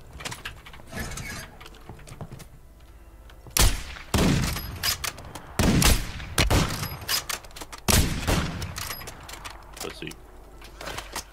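Video game gunfire cracks out in several sharp, loud bursts at irregular intervals over a steady backdrop of battle noise, with a voice talking in between.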